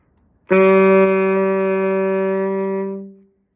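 A single sustained tenor saxophone note, bright and steady, held for about three seconds before fading out.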